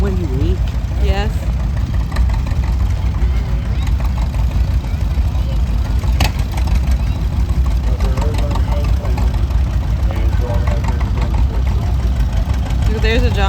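A John Deere tractor engine runs steadily through a steam and gas engine parade in the Shenandoah Valley, a continuous low mechanical drone heard close by beneath chatter from nearby spectators.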